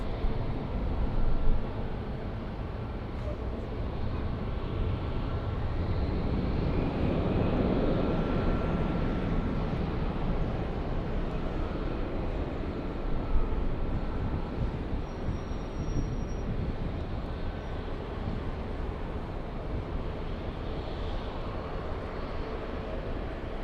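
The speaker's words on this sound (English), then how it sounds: "Next takeoff is Frontier." A Frontier Airlines jet taking off at LAX, a broad, steady engine roar that swells and lingers for over twenty seconds, loud and close with wind-like rush and no speech.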